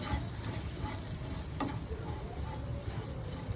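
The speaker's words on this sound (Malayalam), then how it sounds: "നല്ലോണം ഇളക്കി പൊടികളൊക്കെ നല്ലോണം ഒന്ന് മൂത്ത് ഉള്ളിയിൽ കിടന്നിട്ട്" Spice powders frying and being stirred with onion in a pan for an egg curry, a steady close sizzle with soft scraping stirs, no talking.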